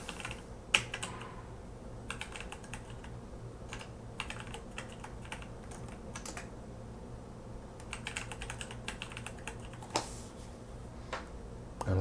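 Computer keyboard keys tapped in quick, uneven bursts while a password goes in during a Linux Ubuntu installation, with light clicks scattered across a steady quiet room hum and no talking.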